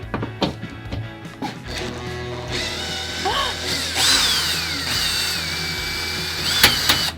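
A power drill whirs in short bursts, then runs in a longer sustained whine with shifting pitch, loosening a screw inside a van, with a sharp clack near the end.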